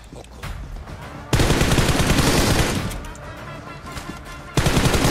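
MG3 machine gun fire in PUBG, a long, loud rapid burst that drifts off slightly, a short pause of scattered shots, then another heavy burst starting up at close range.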